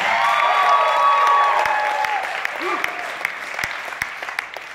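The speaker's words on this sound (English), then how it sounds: "Frank and Patty, please give them a round of applause" An audience applauds a speaker's parents at a live event, a steady dense wash of clapping that stays loud at first and then eases off, with a voice speaking faintly over it.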